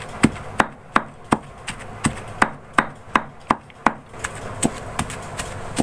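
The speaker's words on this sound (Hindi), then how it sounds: "अब इसको मैं थोड़ी देर पीस लूंगी डंडे की मदद से।" Beef mince is pounded with a wooden stick, a steady series of about fifteen sharp, dull thuds at a regular, slightly slowing rhythm, close and clear, with nothing else heard.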